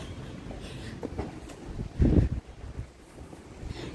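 Wind buffets the microphone in low rumbling gusts, with one stronger blast in the middle, outdoors in a park at midday and no talking.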